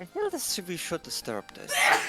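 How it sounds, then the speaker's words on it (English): A person sneezes sharply near the end of a stretch of conversational talk among tabletop role-playing game players, one loud burst following the speech. "You better not sneeze again."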